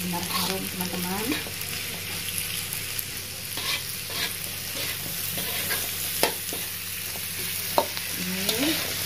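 Jengkol (dogfruit) being stirred as it stir-fries in a pan, a steady close sizzle and frying hiss throughout with repeated scraping strokes of the utensil against the pan.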